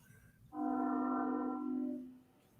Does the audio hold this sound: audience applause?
no